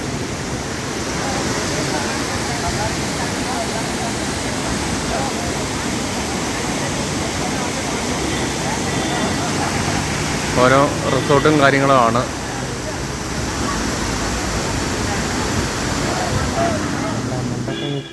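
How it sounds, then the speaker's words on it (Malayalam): Valanjanganam waterfall in Kannur pours with a dense, steady roar of falling water that fills the whole stretch, while someone talks over it. "ഇതാണ് വളഞ്ഞങ്ങാനം വാട്ടർഫോൾസ്"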